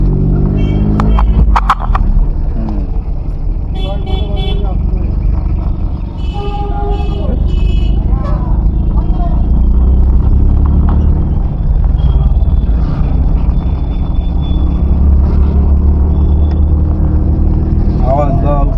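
A manual car driven in second gear gives off a steady, loud engine rumble that continues throughout, with people talking over it.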